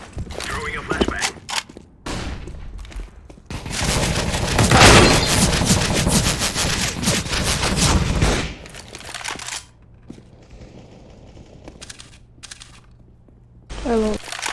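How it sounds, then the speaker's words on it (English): A flashbang grenade goes off in Counter-Strike: Global Offensive amid a burst of game gunfire, a loud dense stretch of blasts and shots followed by quieter ambient game sounds and a few later bursts. "Throwing a flashbang."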